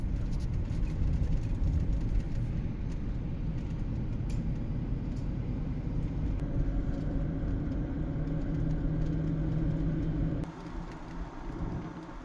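A car on a short ride through Gibsland, Louisiana, heard from inside as a steady low road rumble and engine drone that drops a little in level near the end.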